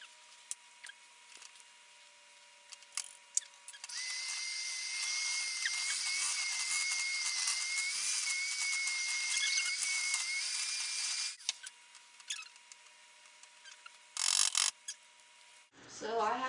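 An electric mixer whirs steadily through chocolate cake batter for several seconds, a loud, close, high whine that stops abruptly, then a short second burst follows amid quieter kitchen handling sounds.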